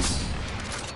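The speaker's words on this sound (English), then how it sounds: "I swear I'm shooting at stuff that's not there" Dense, loud burst of rapid gunfire from the Apex Legends battle royale shooter, a continuous fusillade of overlapping shots filling the whole second with harsh broadband crackle, close and steady with no voices.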